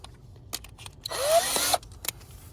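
A power drill with a T20 bit backs a bolt out of a 2006 Honda Civic coupe in one short whirring burst of under a second, loud and close, with quiet workshop background before and after.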